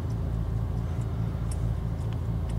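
A Bentley on a 2010 Monticello track day roars at full throttle, a steady, loud and close engine drone with no voices.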